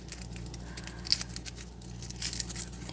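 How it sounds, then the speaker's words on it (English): A vegetable is pressed down and its skin peeled off by hand during homemade soup prep, giving soft, close tearing and crackling sounds in short irregular bursts. "That loosens up the skin and it makes it easier to peel."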